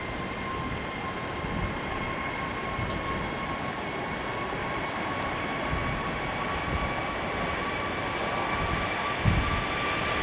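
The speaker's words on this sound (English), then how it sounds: "Right, here goes the A320neo." An Airbus A320neo jet taking off at full power, a steady broad engine roar with a whining tone held throughout, heard from outdoors at an airport with no talk.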